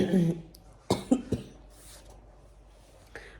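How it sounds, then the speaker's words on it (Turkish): A brief bit of voice, then three quick, harsh coughs in a row from a pregnant woman with a persistent cough, followed by near silence. "Bu öksürük bezi bir bırakmıyor."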